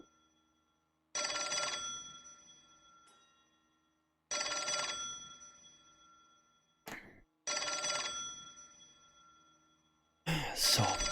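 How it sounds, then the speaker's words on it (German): A telephone rings in the video game L.A. Noire: three long bursts of a bright electronic bell separated by silence, with a faint cough between rings and a final burst partly cut off. "das Telefon klingelt"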